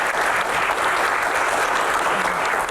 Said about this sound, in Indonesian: tepuk tangan untuk dokter